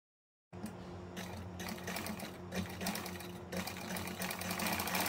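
A sewing machine stitches lace onto a designer slit garment. It starts abruptly after a short silence and then runs as a continuous close mechanical whir with a steady rapid rhythm, pausing briefly now and then.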